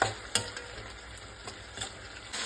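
Tamarind juice bubbles in a pan for tamarind chitranna, a soft steady simmer with occasional sharper pops and clinks, close and fairly quiet with no talking.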